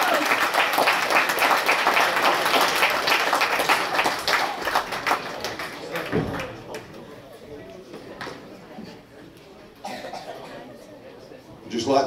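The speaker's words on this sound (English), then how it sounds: "a round of applause for both of you ladies" Applause for two women boxers after an amateur bout at a boxing event, dense clapping from the audience for about six seconds, then dying down to scattered claps, coughs and murmured talk, with a brief burst of claps near the end.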